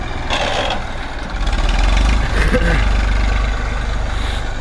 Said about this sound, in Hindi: ज़्यादा डंगा है खेत में इसलिए ट्रैक्टर खींच नहीं पा रहा कल्टीवेटर